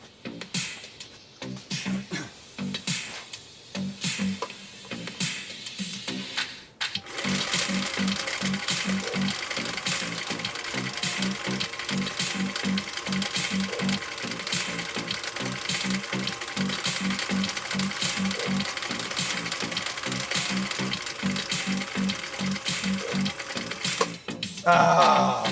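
A Husqvarna Viking CI 21A sewing machine stitches through four layers of commercial-grade canvas, running in a steady, loud mechanical rattle for about twenty seconds after a quieter start with brief handling noises.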